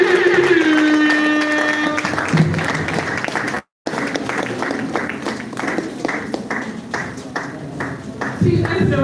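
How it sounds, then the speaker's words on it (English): A seminar audience applauds for several seconds, a dense patter of many hands clapping that keeps going over a voice, briefly cut by a gap before the clapping resumes. "Please, let's give a round of applause for Mr."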